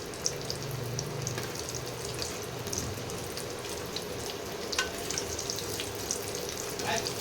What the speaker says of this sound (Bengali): খুব মচমচে করে ভাজাটা চিকেনগুলো ভাজা হয়ে যাবে